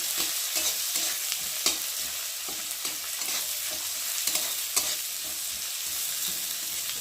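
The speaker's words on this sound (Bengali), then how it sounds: "পেঁয়াজটা একটু ভালো করে ভেজে নেব" Chopped onion sizzles steadily in hot oil in a pan, a continuous close crackle with occasional clicks of stirring and no talk.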